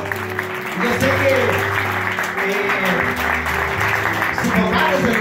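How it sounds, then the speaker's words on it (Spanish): A crowd claps steadily in a reverberant church hall at a Christian praise-ministry event, with a low musical hum and some voices mixed underneath. "Un fuerte aplauso"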